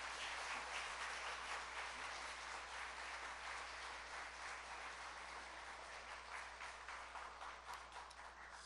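A church congregation applauds to welcome the pastor to the pulpit, a steady, dense wash of clapping that stays faint and even throughout, with no voices over it.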